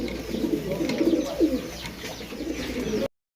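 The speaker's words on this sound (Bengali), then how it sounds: "এখানে একটা ম্যাক পাই কবুতর আছে রেড কালারের ম্যাক পাই" A red magpie pigeon coos softly in a loft, low repeated murmuring calls close by over a steady background hum, with no talking.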